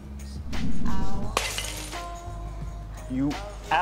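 Glass shatters loudly with a sharp crash, followed by scattered tinkling and clinking of pieces, amid voices and background noise in a room.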